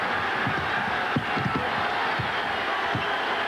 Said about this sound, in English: That little flurry got the crowd up.